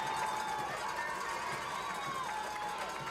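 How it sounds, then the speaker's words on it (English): A large high school football playoff crowd roars and cheers continuously across a stadium, a dense sustained wall of voices with a whistle-like tone drifting over it. "Listen to this crowd."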